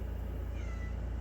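A household cat gives a short, faint meow against a loud, constant low hum.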